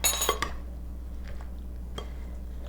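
A big spoon scrapes and clinks against a bowl while mixing bruschetta topping, a few sharp taps near the start and later, over a steady low hum.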